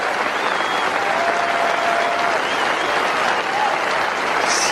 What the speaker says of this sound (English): And everybody around standing. What a wonderful ovation.